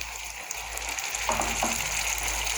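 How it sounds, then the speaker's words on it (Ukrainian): A hot pan of chicken and vegetables sizzles steadily as half a cup of water is added, with a brief burst of bubbling and spattering near the end. "Зараз я додаю півчашечки водички."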